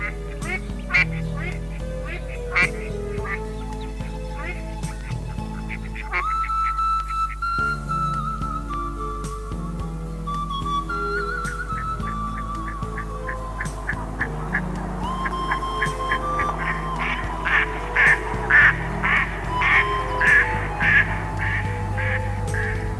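Ducks quack repeatedly at a traditional duck decoy in Piaam, Friesland: clear, nearby quacking in scattered bursts that grows busier and louder toward the end, over a low steady hum.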